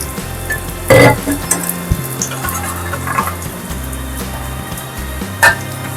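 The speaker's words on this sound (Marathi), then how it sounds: "हे पण आपल्याला मिडियम फ्लेम वरती चांगले भाजून घ्यायचे. आणि भाजून तेल घालते याच्यात." Slices of elephant foot yam frying in oil in a pan over a medium flame, giving a steady close sizzle with a few louder bursts and some clatter.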